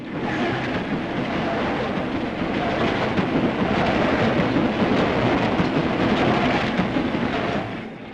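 A London Transport train rumbles past on the track, a loud, continuous roar of wheels and cars that stays steady, then eases slightly at the end.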